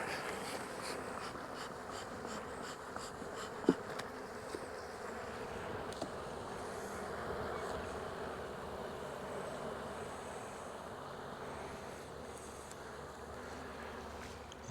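Honey bees buzz steadily throughout a hive inspection, a dense, continuous hum close by with a few faint clicks and light handling noises of frames and tools, no talking.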